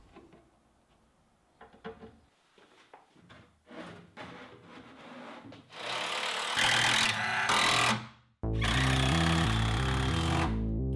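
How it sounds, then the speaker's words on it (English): A power drill grinds loudly in bursts after some quieter handling knocks, a close, harsh mechanical roar drilling into a closet panel. "I went back to the closet to drill the final row"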